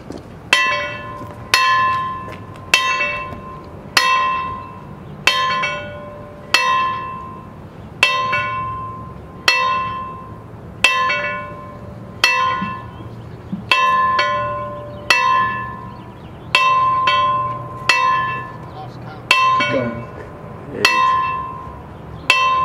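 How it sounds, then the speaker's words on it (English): The Liberty Bell of Freedom is struck at a ceremony, each clear metallic strike ringing out and decaying before the next in a slow, even sequence, loud and close with no talk. "our bell ringer, Dennis, to ring the Liberty Bell of Freedom. We're going to ring it 9 times"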